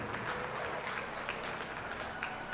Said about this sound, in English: Let's have a round of applause for our final drive of the 2025 Beef Heifer Show